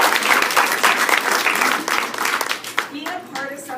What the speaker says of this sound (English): I really think that that deserves a huge round of applause